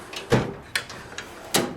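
A metal tool box drawer slides open and shut several times, sharp clunks and scrapes spaced about every half second, close by.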